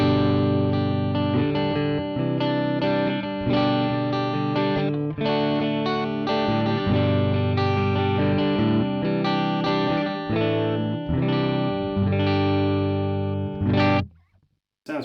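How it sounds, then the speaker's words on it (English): Electric guitar on the neck pickup runs through a preamp straight into a recorder with no pedals, giving a warm, full, slightly gritty tone. Strummed chords and picked notes play continuously and close, then stop abruptly near the end. "this is just the preamp guitar, not any other pedals on, through the preamp straight into the recorder on the neck pickup"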